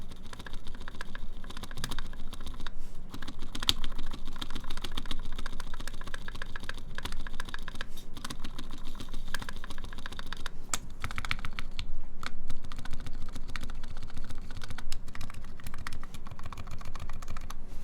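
Fast, continuous typing on a Squid 60 mechanical keyboard fitted with silent switches produces a dense stream of soft, muffled key clicks at close range, steady for the whole stretch with no talking.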